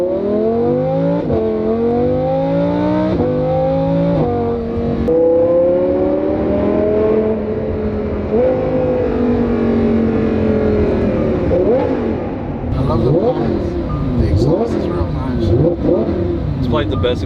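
A Lamborghini Huracan engine revs repeatedly, pitch sweeping up and down in loud surges, with a roaring exhaust throughout.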